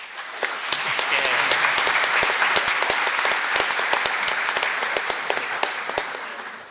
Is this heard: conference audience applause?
yes